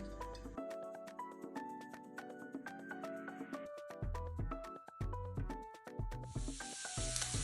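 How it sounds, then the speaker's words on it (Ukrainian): Onion and carrot sizzle and hiss in hot sunflower oil, the frying clearest at the start and end, with background music playing over most of it. "відправляю смажитися цибулю і моркву"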